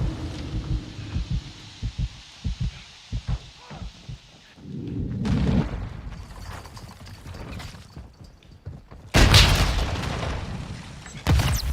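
RPG-7 rocket in Call of Duty Modern Warfare II, a mechanical clatter and rumble building into a loud booming blast near the end, heard over background game noise with almost no talk.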